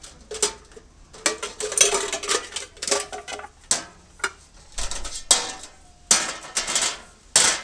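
Camping pans handled and packed alongside a kettle and burner kit, with repeated metallic clanks, scrapes and rattles in close, uneven bursts separated by short pauses.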